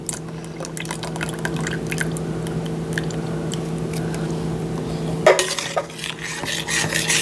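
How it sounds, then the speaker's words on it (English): Pumpkin pie filling is stirred in a bowl with soft wet sloshing and squishing, steady under a low hum, with a sharper clatter near the end. "And we're just going to stir and stir until it's all mixed together."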